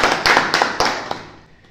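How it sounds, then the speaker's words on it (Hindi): A small family group claps for a young daughter at a home gathering, giving a few bright, close, uneven claps that thin out and fade away. "सारी तालियां"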